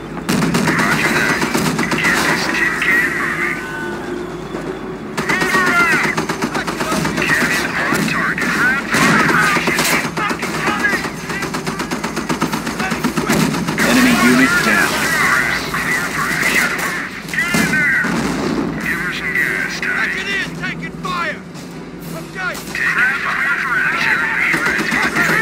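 Heavy gunfire and artillery pound an attacked base in the strategy game Company of Heroes, a continuous loud barrage of rattling machine guns and booming shells, with radio-style voices speaking over the battle at times.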